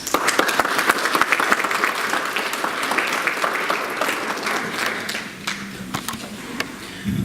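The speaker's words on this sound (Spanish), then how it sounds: "Lo recibimos con fuertes aplausos." An audience at a legal seminar applauds to welcome the speaker, steady dense clapping that gradually thins toward the end, with a few louder taps.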